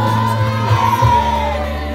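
A crowd whoops and shouts for tournament winners Raków Częstochowa, youth players being crowned with a trophy, with loud sustained yells and cheering voices close by.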